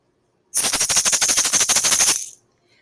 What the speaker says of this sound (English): I hear a rattlesnake's tail.